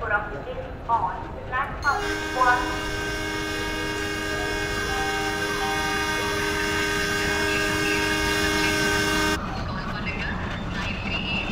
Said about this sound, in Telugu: ట్రైన్ అయితే వస్తుంది చూడండి